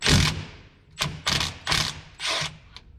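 An impact wrench works the lug nuts on an all-wheel-drive Mazda RX-7 wheel in several short bursts, each a loud, close whirring rattle about half a second long, separated by brief pauses.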